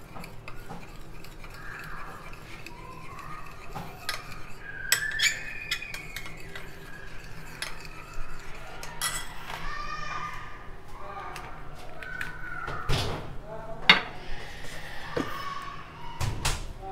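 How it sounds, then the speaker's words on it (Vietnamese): A metal spoon clinks and scrapes against a cup while stirring coffee for tiramisu, giving light irregular taps throughout, with people talking softly underneath. "quậy cái nước cà phê này lên"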